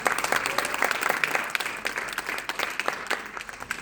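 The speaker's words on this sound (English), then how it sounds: "Big round of applause, please." Audience at a comedy roast claps for the man being roasted, a short burst of close, lively applause with distinct individual claps, fading slightly toward the end.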